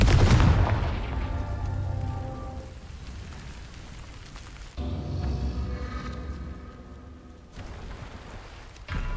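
A Confringo blasting spell going off in Hogwarts Legacy, booming bursts with rumbling low-end debris, a loud hit at the start, another swell near five seconds and a third near the end, set against steady game noise.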